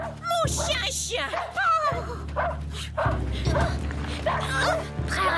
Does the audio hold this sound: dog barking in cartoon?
yes